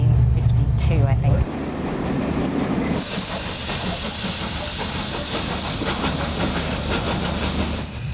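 A British main-line steam locomotive lets off a strong, steady hiss of steam that swells louder partway through and continues unbroken, with a low rumble at the start and a voice speaking faintly underneath.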